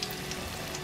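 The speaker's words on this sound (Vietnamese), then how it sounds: "Đây cứ chiên như thế này thôi." Jackfruit pieces frying in a pan of oil, a steady soft sizzle with faint crackles, heard close and alone without talk.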